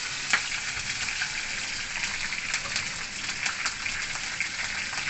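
Green chillies fry in hot oil for rice rava upma, making a steady, close, crackling sizzle with small pops throughout.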